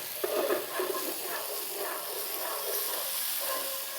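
Massaman curry paste hitting a hot pan for a butternut squash Massaman curry, giving a steady, bright, close sizzle and hiss that lasts throughout, with faint stirring scrapes underneath.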